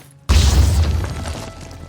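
A grenade going off in the video game Phoenix Point, one sudden loud deep boom with a crashing burst that fades away over about a second.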